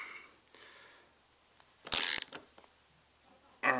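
A ratchet with a 13 mm socket snugs down bolts on a racing seat bracket, giving a quick burst of dense, close clicking, then a second short burst at the end, with no voices.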